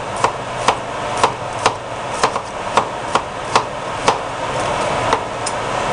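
A knife chops vegetables into small slices on a board, giving a steady series of about a dozen sharp, close knocks at an even rhythm.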